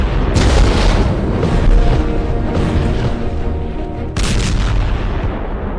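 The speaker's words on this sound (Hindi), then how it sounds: "इजराइल का triple attack, Yemen, Tehran, Gaza में धमाके।" Repeated explosions from Israeli strikes on Yemen, Tehran and Gaza, heavy booms and rumbling blasts filling the whole stretch loudly, with a fresh sharp burst near the end.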